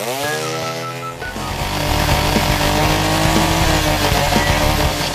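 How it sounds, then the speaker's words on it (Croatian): A motor engine cranks, catches and settles into loud, steady revving, its pitch rising at the start before holding a rough, continuous roar close by. "Što upali motor?"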